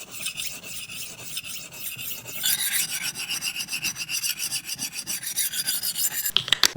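A knife edge is drawn across a Rolling Stone Pro sharpener stone set at 15 degrees with 360 grit, making a steady, rhythmic gritty rasping that grows brighter and louder partway through, ending with a few light metallic clicks.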